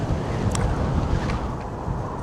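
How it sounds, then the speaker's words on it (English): Strong early-March wind blows outdoors, a steady rushing roar buffeting the microphone with a few gusty rises, with no one speaking. "very strong winds today."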